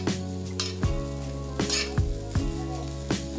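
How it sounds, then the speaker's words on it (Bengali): Rice for khichuri fries in a pot, with a soft steady sizzle broken by several sharp clinks and scrapes of a stirring utensil, close and fairly quiet. "এদিকে আমি খিচুড়ির চালটা ভাজতে বসিয়ে দিয়েছি"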